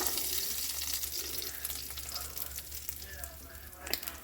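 Cajun chicken sizzles steadily in a hot pan while being glazed with Worcestershire, a loud, close, continuous hiss that fades slightly toward the end with a few small clinks.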